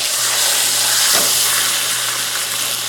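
A roast sears on its side in a hot cast iron pan, giving a loud, dense, continuous sizzle with no pauses or voices.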